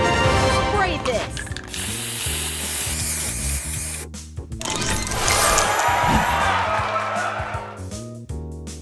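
Loud, sustained spraying hiss in a heist video game during a fireworks festival challenge, under dense music and effects, with a brief break midway before the spray resumes.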